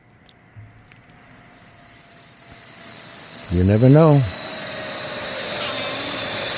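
An airplane flies overhead, its broad engine drone slowly swelling and holding steady across the stretch while a voice speaks briefly partway through.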